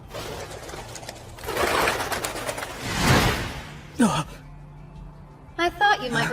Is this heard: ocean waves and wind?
no